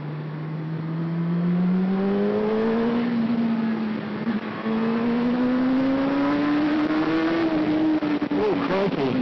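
A 2013 Honda CBR600RR motorcycle engine revs steadily upward toward about 9,000 RPM, a loud, close, continuous rising whine with a brief dip midway before climbing again, heard alone.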